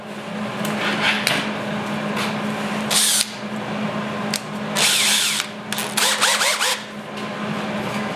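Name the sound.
power drill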